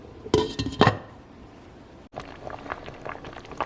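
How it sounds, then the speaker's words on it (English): Metal pot lid set back onto a simmering pot of oil-free, salt-free cabbage soup, giving a couple of loud close clanks and clinks followed by a softer rattle and faint kitchen handling noise. "And don't forget to put your lid back on."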